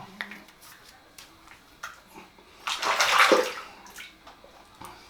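A wet hand sweeps soapy lather off a freshly razor-shaved head, giving soft splashy squelches that swell into one louder watery rush midway before fading to small drips and handling sounds.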